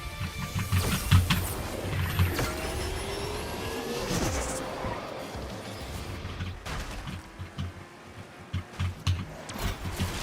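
A racing video game car with a supposed V10 engine revs with a whining, rising and falling pitch, loud and continuous with shifting tones and no talking.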